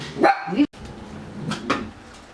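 Dogs in an animal shelter set up inside an apartment block bark in short, sharp bursts, with a few quick barks close together against faint room noise.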